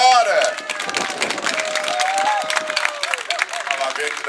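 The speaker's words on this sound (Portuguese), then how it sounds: "quero de maneira alguma dizer a todos vocês um grande aplauso" A crowd at a festive gathering applauds the Carreirinhos club from Santarém, scattered clapping mixed with shouts and voices, rising and falling over several seconds.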